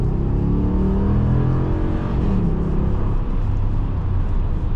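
A 2022 Ram 1500 Classic pickup with a 5.7-liter Hemi V8 and 8-speed automatic accelerates hard toward 100, its deep engine drone rising steadily in pitch through the gears, heard loudly from inside the cab.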